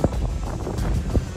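Wind at an outdoor shooting range buffets the microphone with loud, low rumbling gusts that swell and fade across the short stretch, with no voices.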